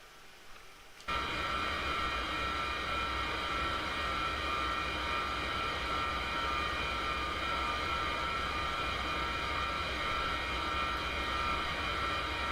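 In the DCS flight simulator, an F-4E Phantom jet taxis on the ground, its engine giving a loud, continuous, steady roar with a high whine that starts abruptly after a short quieter moment.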